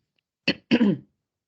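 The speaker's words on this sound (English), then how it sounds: "I'm going to be clearing my throat a lot." A person clears their throat twice in quick succession, a short rasp followed by a longer, rougher one, close and clear in an otherwise silent room.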